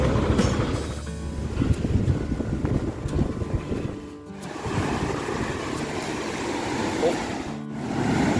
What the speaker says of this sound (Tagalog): ang lalaki po ng mga alon